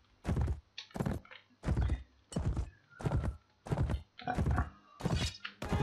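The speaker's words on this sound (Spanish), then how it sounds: "Se ponen a disparar." Gunfire from troops in the Mount & Blade: With Fire and Sword video game: a steady series of about nine loud, booming shots spaced evenly around half a second apart, with no talking.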